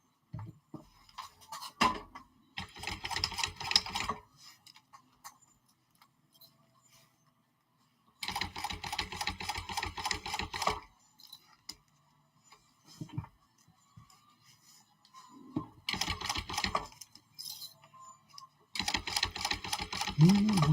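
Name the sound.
sewing machine top stitching a crossbody bag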